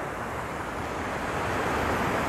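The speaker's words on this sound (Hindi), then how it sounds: "ये देखो ये है हुंडरू का जलप्रपात" A steady, dense rush of water at Hundru Falls in India roars without pause, broad and loud, with no voices.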